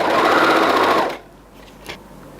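A sewing machine stitches cardigan fabric in a steady loud whirr for about a second, then stops, leaving quiet room tone and a small click.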